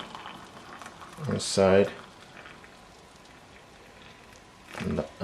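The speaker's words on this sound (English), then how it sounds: "Pour a bit of water" Hot water is poured onto a Tetley tea bag with a soft, steady hiss and bubbling, briefly louder in two short swells, while a person talks nearby.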